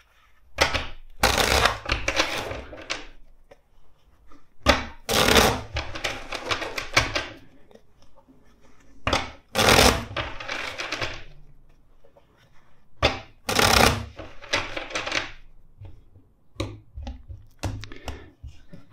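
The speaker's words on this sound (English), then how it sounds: "Let's shuffle this other deck four times." A deck of tarot cards being shuffled by hand, heard as four separate bursts of crisp riffling and flapping with quiet pauses between them.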